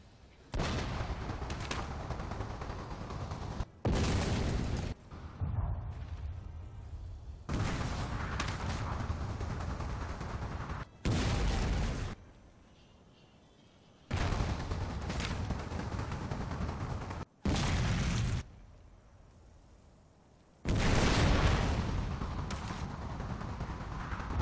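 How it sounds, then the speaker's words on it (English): Artillery barrages in the samurai-era strategy game Fall of the Samurai, a run of loud booming blasts separated by short quieter gaps, each burst heavy and sustained. "Let's see what I can do with some artillery."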